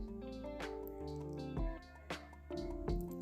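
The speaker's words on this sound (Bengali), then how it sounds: "এখানে আমি যেহেতু স্ট্রবেরি ধুতে এসেছিলাম" Strawberries are washed in water, with soft drips, splashes and squishy handling sounds coming close and intermittent, a few louder plops standing out.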